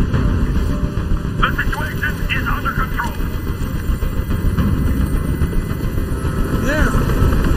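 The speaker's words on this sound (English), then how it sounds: "Tell that helicopter to get out of here!" A helicopter hovers in a tense hostage scene in the video game Detroit: Become Human. Its rotor produces a loud, constant whirring roar that fills the scene from start to finish, with voices shouting over it.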